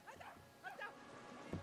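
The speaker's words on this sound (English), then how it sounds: "But the dog really wants to take a chunk out of him." A dog barks and yelps in the adventure game Brothers: A Tale of Two Sons, short snappy calls heard close amid game sounds, with one sharp loud bark near the end.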